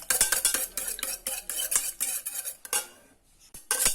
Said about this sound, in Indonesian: Kocok lepas telurnya sampai tercampur rata ya antara putih dan kuningnya.